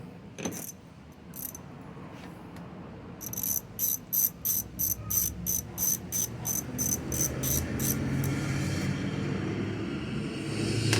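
A ratchet wrench tightens an 8mm bolt on the recoil starter of a Pulsar 72cc 1200 W generator, giving a close, rapid run of evenly spaced metallic clicks that repeat about a dozen times over a steady background hum.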